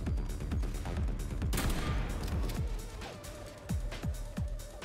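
Robot enemies firing in the Atomic Heart video game, a rapid run of sharp shots in bursts, with a louder blast partway through and a few later pops over a constant game background.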